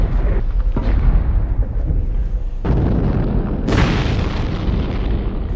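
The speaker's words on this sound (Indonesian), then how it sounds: "di tengah keheningan tiba-tiba terdengar suara ledakan" Explosions in a war film scene boom loudly with heavy low rumble, two sharp blasts cutting in over sustained roaring debris and fire.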